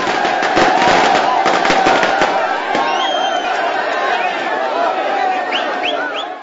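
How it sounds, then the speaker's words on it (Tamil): Firecrackers burst at an ADMK party workers' street celebration, a dense rapid crackle of loud pops in the first seconds that gives way to a thinner crackling under crowd chatter, with a few whistling rockets near the end. "மகிழ்ச்சி வெள்ளத்தில் பட்டாசுகளை வெடித்தும்"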